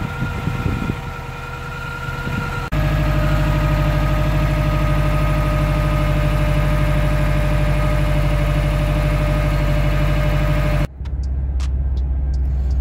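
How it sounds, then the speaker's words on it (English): A loud, steady 2012 Subaru WRX engine idle drones with a constant low hum and a faint whining, rattling tone from a worn clutch throwout bearing on top, cutting out near the end before restarting. "Definitely thinking that's the throwout bearing, but it always goes away once I start driving"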